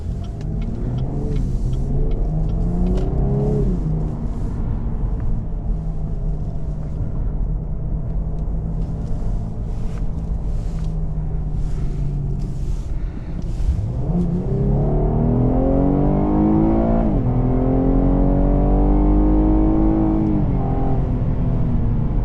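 A 2017 Cadillac CTS 3.6 in sport mode pulls hard with a loud, steady engine roar, its pitch climbing, dropping sharply at one gear change, then rising again, heard alone from inside the car.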